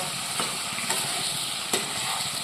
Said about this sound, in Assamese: সিফালে পিঁয়াজ ৰঙা হৈ যাব সিটো কেৰাহীত